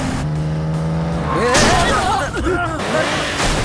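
A car crash on a road with lane crossing and traffic: a loud, dense burst of impact noise with a screech-like sweep, over a steady engine drone, close and sustained for a few seconds.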